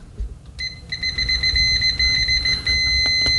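Continuity beep from a UNI-T UT117C multimeter with Probe Masters test probes, one steady high electronic tone latching on and holding for several seconds, fairly loud over low background rumble and a few small clicks.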